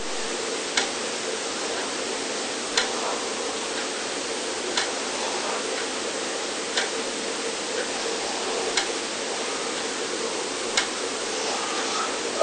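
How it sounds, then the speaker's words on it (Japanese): A clock's second hand ticks steadily about once every two seconds, sharp faint clicks over a constant loud hiss of background noise, with no voices. "なお、ずっと時計の秒針の音が入ってしまっています。"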